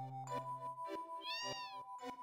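A game cat in Final Fantasy VII meows several times over a steady synthesized music bed, the cries short and clear with one longer rising-falling meow in the middle.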